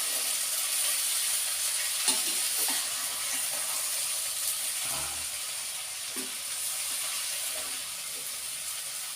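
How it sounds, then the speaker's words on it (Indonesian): Long beans, tempeh and spices are stir-fried in a pan, giving a steady close sizzle with faint stirring scrapes and no talking. "dicampur dari mulai kacang panjang sampai tempe dan bumbu-bumbu biar tercampur semua dulu"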